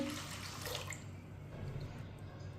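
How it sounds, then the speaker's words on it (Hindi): A brief splash of water poured into a cooking pot of chana dal, quiet and close, lasting under a second before fading into soft background hiss. "अब इसमें 3 गिलास पानी डालेंगे।"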